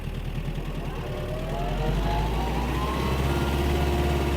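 A Mitsubishi MT-265 Japanese mini tractor engine held at full throttle in fourth, top gear, a steady low droning hum that swells slightly louder and holds, with no talk.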